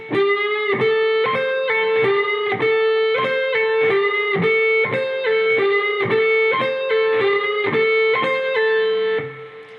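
Distorted electric guitar repeats a short riff phrase five times at a slow, steady pace, each note picked clearly with sustained ringing tones, alone and fairly loud.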